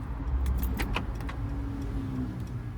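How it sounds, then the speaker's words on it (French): Car keys jangle in short bursts as a parked car is locked after a highway drive, with a low idle-like rumble underneath; close and fairly quiet. "je vais fermer la voiture"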